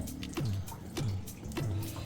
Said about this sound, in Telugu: కొంచెం వాటర్ పోసి కలుపుకోవాలి